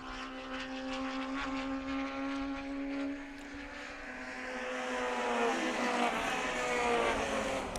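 Several race cars run bumper to bumper through turn 15 on a road course, their engines droning loudly with rising and falling pitch as the pack passes and then fades before building again.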